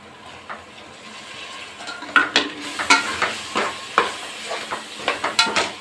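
Tomatoes being stirred into frying onions and garlic in a pot for chicken biryani, with a steady soft sizzle under a rhythmic run of scraping, clinking spoon strokes that grow busier and louder.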